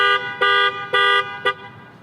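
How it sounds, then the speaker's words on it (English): A 2018 Jeep Grand Cherokee Overland horn is triggered by the panic button, giving four loud, close honks in a steady on-off rhythm, the last one shorter. "It has a really strong horn."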